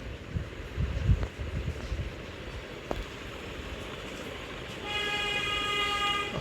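Train in the Granny video game, with rumbling footsteps and game noise at first, then a steady mechanical drone with a sustained tonal whine rising in the last second and a half, fairly loud and alone.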